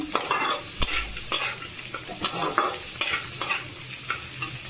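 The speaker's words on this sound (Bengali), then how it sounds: "নেড়ে চেড়ে নেব এবার একটু হাই ফ্লেমে দিলাম" Maggi noodles fry on high flame as a spatula scrapes and turns them in the pan, giving a steady run of close stirring strokes over a constant soft sizzle, with no voices.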